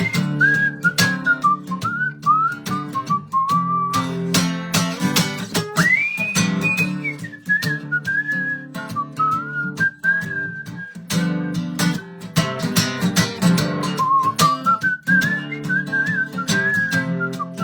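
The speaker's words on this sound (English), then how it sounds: "Whistle for me, whistle for me" Audience whistling at a live concert, a clear melodic whistled line rising and falling over backing music with a strong beat and percussion, sustained for the whole stretch.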